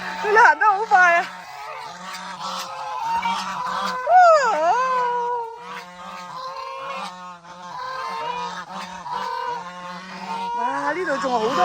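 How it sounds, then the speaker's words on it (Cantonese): Free-range geese honk loudly and repeatedly in a noisy, overlapping flock, close by, with a person talking among them. "家呢啲真正嘅鵝啊，走地鵝。"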